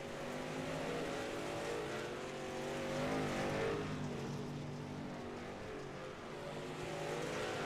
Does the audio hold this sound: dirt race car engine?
yes